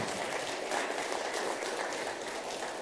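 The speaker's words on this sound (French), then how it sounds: "Vous pouvez les applaudir" Audience applause at a talk on OAuth 2.1, a steady, moderately faint patter of clapping hands filling the room throughout without voices.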